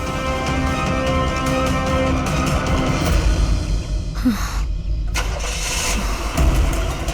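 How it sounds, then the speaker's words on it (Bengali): A car engine cranks and catches, then revs and idles as the vehicle pulls away, loud and close with a brief quiet gap before the engine noise returns. "স্যার, মনে হচ্ছে খুনি গাড়ি নিয়ে পালিয়ে গেল।"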